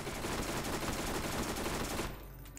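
Rapid automatic gunfire in the shooter video game Borderlands, a dense continuous burst of shots lasting about two seconds before cutting off to quieter game background.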